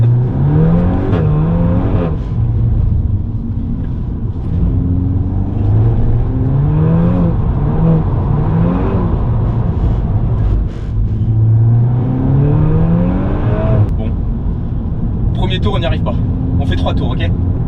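A four-wheel-drive car drifts with its engine revving in repeated rising and falling sweeps, loud and close throughout, with tire noise and people talking over it.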